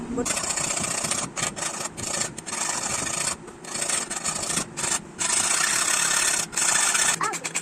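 A boti kitchen blade is sharpened with steady rasping, grinding strokes that run almost continuously with brief breaks, close and fairly loud.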